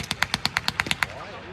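A rapid burst of about ten sharp blank gunshots at a WW2 re-enactment, in an even rhythm, loud and close, then fading echo with a voice beginning underneath.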